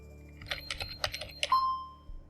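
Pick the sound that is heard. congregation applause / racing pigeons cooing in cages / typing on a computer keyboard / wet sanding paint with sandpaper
typing on a computer keyboard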